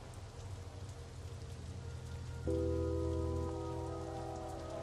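Steady rain pours down in the video game Dead to Rights: Retribution, a constant soft hiss at moderate level with a low hum and a sustained tonal drone rising midway; no speech.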